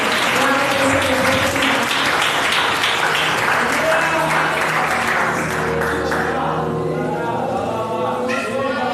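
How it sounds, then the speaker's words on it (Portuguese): A church congregation claps together in steady, dense applause that fills the whole stretch, with voices mixed in and the clapping thinning slightly toward the end. "Você que pode, aplaude Jesus o mais feliz que você puder."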